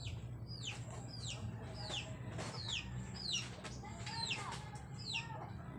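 Several chickens cluck and squawk nearby in repeated short bursts, with a low background hum and faint voices.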